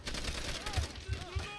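Bursts of gunfire in Call of Duty: World at War, a few heavy low thumps in quick succession mixed with game sounds under a talking voice.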